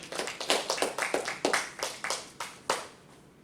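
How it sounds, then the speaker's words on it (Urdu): A few people clap to welcome a speaker at a Toastmasters gathering, a short run of separate, evenly spaced claps that thins out and stops within a few seconds, fairly quiet with no talk over it. "تو بھرپور تالیوں میں استقبال کیجیے گا"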